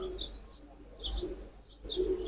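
Giribaz pigeons in a loft give soft, low cooing in a few short bursts, fairly close and quiet.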